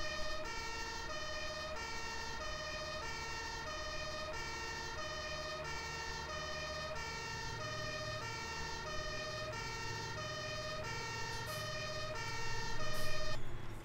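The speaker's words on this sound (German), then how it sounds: "So, Martinshorn einschalten." A fire engine siren in the farming simulator game Landwirtschaftssimulator 17, a steady two-tone horn alternating in regular cycles over a low vehicle engine rumble, swelling slightly louder near the end.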